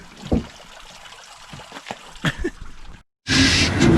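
Water trickling and splashing out of the opened back doors of an off-road vehicle after it sucked up water while wheeling, with scattered drips and gushes, then a loud steady pouring rush near the end.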